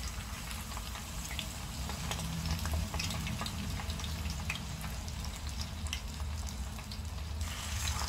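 Popiah spring rolls fry in a pan with a steady, dense sizzle and bubbling oil that holds close and even throughout, with no talk over it.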